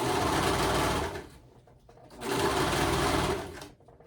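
A budget serger sewing machine finishing the raw edges of cotton shirt fabric, running in two loud steady bursts with a short pause between them.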